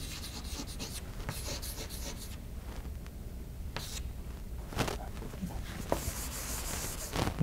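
A lecturer writes on a board, producing scratchy, rubbing strokes in irregular bursts with short pauses, moderately close in a quiet room.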